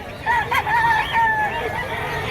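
A stag, a young rooster, at a market pen gives one clear, nearby crow with wavering pitch, over background chatter and crowd noise.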